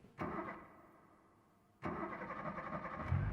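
Car engine starting in the BeamNG driving game, two crank-and-catch starts in succession, each settling into a steady mid-pitched idle, loud and close with no talk over it.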